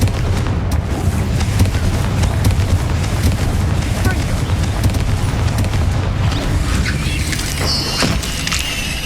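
A Confringo fire spell explodes in the video game Hogwarts Legacy, a loud sustained booming roar with rumbling low end and crackling debris that trails off toward the end.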